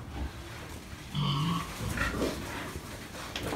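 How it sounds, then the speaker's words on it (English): Pigs on a busy hog farm that raises sows and feeds barley give a few short grunts and squeals at middle distance, over steady barn background noise. "And here's some of the pigs."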